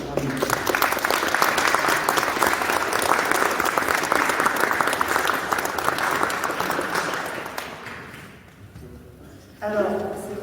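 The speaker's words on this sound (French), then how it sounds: "Et vous pouvez les applaudir pour" Audience applause at a public inauguration of Santiago de Compostela route signage in Paris's 12th arrondissement, a dense steady clapping that runs for about eight seconds, then fades and gives way to someone speaking.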